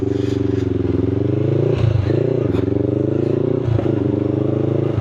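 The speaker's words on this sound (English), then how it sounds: "the full Black Widow system's on the bike now, so you're probably going to hear quite a few cracks and pops" A motorcycle fitted with a full Black Widow exhaust system, riding through the Forest of Bowland, droning loud and close with a steady throb, punctuated by several sharp cracks and pops from the exhaust.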